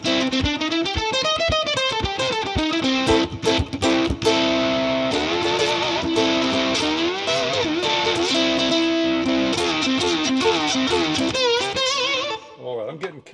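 An Ibanez RG ukulele through a distortion pedal: sustained, heavily distorted plucked strings ring out in chords and runs, loud and continuous, with a fuzzy, saturated edge before fading near the end.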